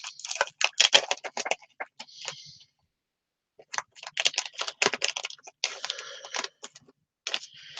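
Crinkly tearing and rustling of a packet of dimensional foam pads being opened for card making, close and crisp in uneven bursts separated by a brief pause.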